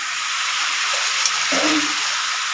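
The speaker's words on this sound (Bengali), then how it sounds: "ভাজা ভাজা হয়ে গেছে দেখতেই পাচ্ছ হচ্ছে আর দারুণ তেল বেরোচ্ছে" Onions frying in oil in a pan make a steady, bright hiss that holds even throughout. A brief low voice-like murmur surfaces midway.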